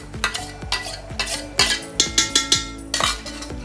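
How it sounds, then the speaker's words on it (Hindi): A spoon stirring onion, yogurt and spice masala in a pan for chicken korma, rapid rhythmic scraping and clinking strokes against the metal, close and clear with no talk. "अच्छे से मिक्स कर लेंगे दही को, प्याज को, मसालों को अपने।"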